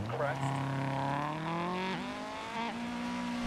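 Rally car in DiRT Rally driving on a burst tyre, its engine droning steadily with rising and falling pitch throughout, loud and continuous with no talk over it.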